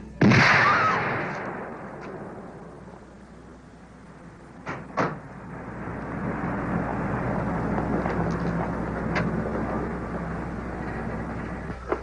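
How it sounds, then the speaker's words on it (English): A time bomb hidden in a vacant lot explodes in a vintage TV police drama: a sharp, loud blast opens, then a long rumbling decay, with a few dull thuds and a low roar swelling afterward. "waiting for the explosion of a time bomb hidden in a nearby lot"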